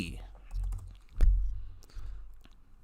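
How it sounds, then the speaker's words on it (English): Computer keyboard typing during a crypto live stream, a few soft irregular key clicks close by, mixed with low thumps and brief speech in the background. "let me type this in here"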